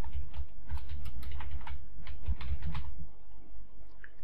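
Fingers type on a laptop computer keyboard in a quick, irregular run of close, crisp key clicks for about three seconds, then the keys fall quiet.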